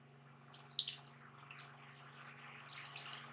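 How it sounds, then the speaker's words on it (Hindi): Water poured into a pot of fried potatoes and chicken for an aloo chicken curry, a close splashing and trickling stream that starts after a brief pause and runs steadily with small surges, no voices. "अब मैं इसमें करती हूँ पानी शामिल"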